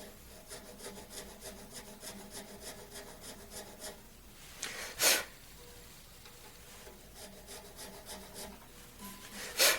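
A file cuts an acoustic guitar nut during a nut action setup, making close, rhythmic rasping strokes in a steady back-and-forth pattern with a few sharper scrapes.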